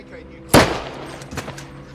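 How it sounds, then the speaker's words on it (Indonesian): Gunfire in a scene from the 2014 film The Rover, where a soldier shoots at a man: one sharp, loud shot followed by a fainter second report, with someone narrating over it. "Tak lama angkatan darat tersebut menembaki Ray."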